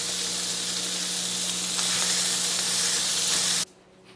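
Meat browns in a hot pan with a loud, steady sizzle and hiss that carries on unbroken, then cuts off abruptly near the end.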